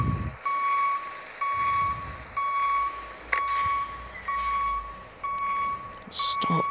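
Bus reversing beeps in the Public Transport Simulator video game, on a Stagecoach-livery bus: a steady series of about six evenly spaced electronic beeps, loud and continuous over low engine rumble.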